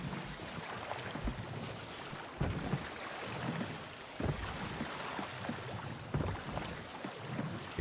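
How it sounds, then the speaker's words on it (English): A rowboat is rowed in the pirate game Sea of Thieves. Soft, rhythmic oar strokes and water splashes repeat about every two seconds over a low wash of wind and sea, with no talking. "you know, rowing the boat"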